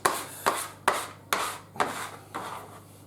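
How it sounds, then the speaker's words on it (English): Bread dough for French stick baguettes scraped from a bowl, a series of six rubbing, rasping strokes in a steady rhythm, close and fairly quiet, with no talking. "Scrape up the rest of our dough like that"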